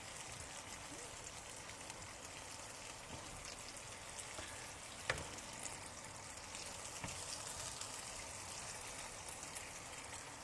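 Vegetarian chicken steaks sizzle in a pan, a faint steady crackling hiss with occasional small pops, continuous and low in level without clear speech.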